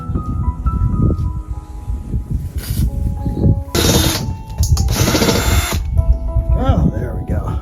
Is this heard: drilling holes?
yes